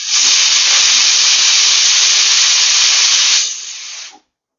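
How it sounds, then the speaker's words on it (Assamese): A pressure cooker cooking tomatoes for pickle releases one loud, sustained hissing whistle of steam lasting about four seconds, fading slightly before cutting off into silence. "এয়া কুকাৰৰ 4-5টা চিটি হৈ গ'ল।"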